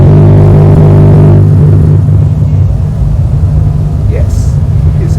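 AI-driven cars in the Project Acceleracers video game give off a loud, steady engine rumble and drone that fills the whole stretch, with a slight shift partway through.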